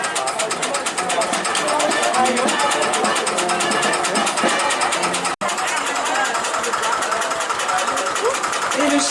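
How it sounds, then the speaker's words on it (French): A very old tractor engine chugs steadily with a rapid mechanical clatter at a harvest festival parade in Hindisheim, France, running continuously under distant crowd noise and talk. "donc là on a un très vieux tracteur"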